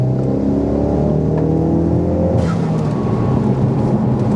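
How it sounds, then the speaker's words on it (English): Ford Focus RS pulling hard in third gear from about 50, its engine note rising in a steady, loud, close drone that climbs in pitch before shifting character near the end. "we're just in third gear, doing 50, let's give it a little pull."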